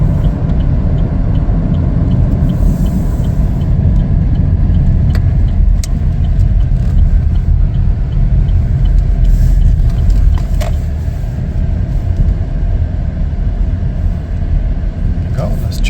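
A 2021 Chevrolet Blazer LT drives slowly to park, its steady low road and engine rumble continuous throughout, with a few faint clicks over the top.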